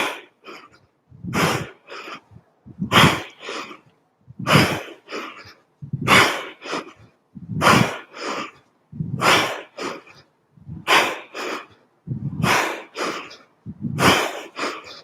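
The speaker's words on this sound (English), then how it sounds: "You can hear breathing in a little harder this round." Heavy, rhythmic breathing during a kettlebell workout recovery, with about ten loud, close inhale-exhale cycles evenly paced through the stretch and no talking.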